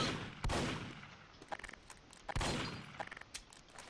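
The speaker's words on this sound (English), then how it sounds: "A shotgun." Shotgun fire in the video game Team Fortress 2: two loud, sharp blasts about two seconds apart, each followed by brief clattering reload clicks.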